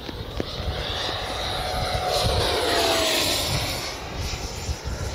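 E-flite F-16 70mm EDF radio-control jet on a high-speed run, its ducted-fan whine swelling as it sweeps past and fading away again, steady and fairly loud against outdoor wind noise.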